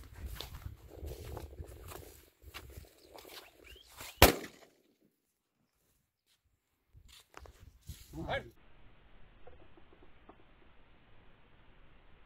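A single sharp 12 bore shotgun blast fired at quail in open fields, loud and close, followed by a stretch of near silence, with someone talking and rustling around it.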